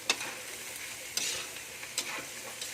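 Chopped cabbage sautés in a pan for pansit, sizzling steadily at moderate loudness with a few sharp scrapes of a utensil stirring it, close and without talking.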